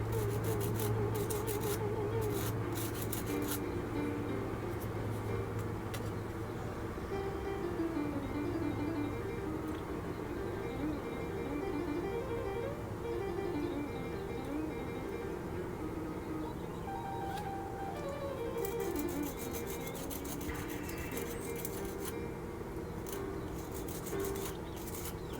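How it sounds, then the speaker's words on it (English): A small plastic part from a 1/32 Tamiya F-51D Mustang model kit is held in tweezers and filed. Soft, repeated rasping strokes run through the whole stretch, close but quiet against a steady background hum. "Smaller pieces like this I find a lot easier to hold with the tweezers when I'm filing it off."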